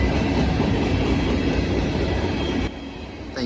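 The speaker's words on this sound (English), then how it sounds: "we end off here with Amtrak 108 returning yet again, this time westbound on Amtrak 43" Amtrak 108 locomotive leading westbound train Amtrak 43 as it passes close by, with a loud, steady rumble of rolling cars and wheels that eases slightly toward the end.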